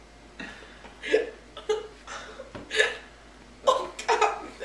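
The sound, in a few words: hiccups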